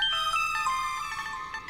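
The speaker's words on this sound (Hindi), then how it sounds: "फोन बज रहा।" A mobile phone ringtone plays on its own, a bright repeating electronic melody at steady volume with no voices.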